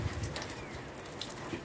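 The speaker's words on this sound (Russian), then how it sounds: "Все капает, слышите? Капает дождь, надо прятаться." Rain dripping in a city courtyard, a soft, continuous patter of drops with scattered louder splashes, faint and spread around the listener, with no voices.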